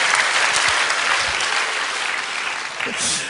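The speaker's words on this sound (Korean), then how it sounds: "박수 한번 쳐줘야죠." A church audience claps during a Korean testimony talk, giving a steady, full burst of applause that holds for several seconds and then thins slightly toward the end.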